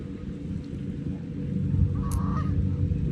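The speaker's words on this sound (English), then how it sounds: "We got a gaggle of goose coming in at me." A gaggle of geese honks, coming in overhead. The calls sit over a steady low rumble of background noise and rise briefly to one clear, fairly distant cry.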